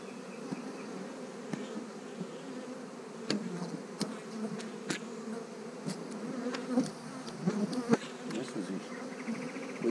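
A huge honeybee swarm buzzes steadily close by, a dense continuous hum with individual bees zipping past in brief louder passes.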